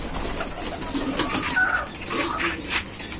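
Soft cooing of a checkered racing pigeon repeats over a busy, hissy background, close and moderately loud.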